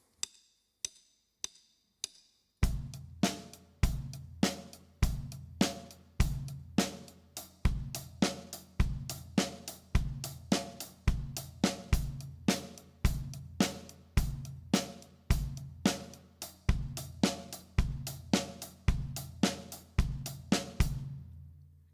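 A drum kit plays a steady rhythm, one bar on the straight beats and the next flipped onto the offbeats. A few sparse clicks come first, then loud, regular kick and snare hits with cymbal wash fill the rest, close and without talk.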